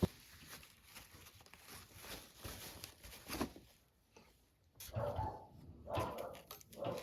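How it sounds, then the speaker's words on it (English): Dog barking in a room, several short sharp barks scattered through the clip, mostly in the second half, fairly faint and with other household noise around them. "Don't mind the dog barking."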